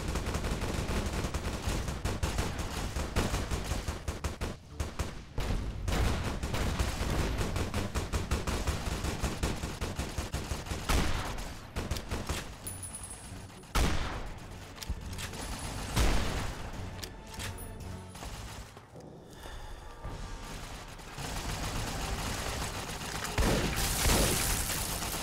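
A Gatling laser fires in the Fallout New Vegas video game in dense rapid bursts of crackling shots, sustained over many seconds with brief pauses and several louder impacts.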